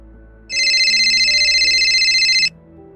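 A mobile phone ringtone plays loud and close for about two seconds, a bright repeating electronic melody over a quiet background.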